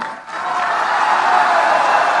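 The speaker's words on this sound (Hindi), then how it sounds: "आपने ताली बजाई, दबा के ताली बजाई" Applause from a large crowd at an Indian political rally speech, a loud, sustained wash of clapping and crowd noise that swells after a brief dip and holds steady.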